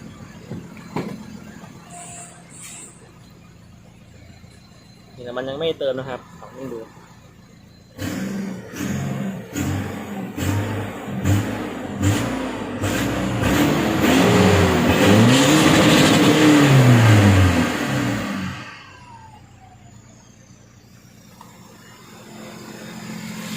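Diesel engine of a Nissan NP300 pickup (D23, Navara) running on B10 fuel after a fuel-filter change, blipped and revved repeatedly, then held high for several seconds before dropping back to a quiet idle; a brief voice appears early.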